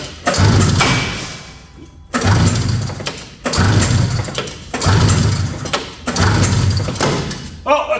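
Repeated attempts to start a 1975 Suzuki Fury snowmobile with the choke on: five bursts of pull-start cranking and thumping, each lasting about a second and a half and separated by short pauses, close and loud.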